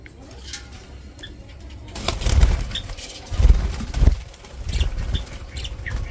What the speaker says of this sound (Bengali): এই দেখো নীল পাখিটা বাইরে বেরিয়েছে